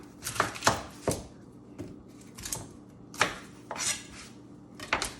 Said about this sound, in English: we're going to take some carrots, we're going to take some celery, and we're going to take some onion, and we're going to prep it.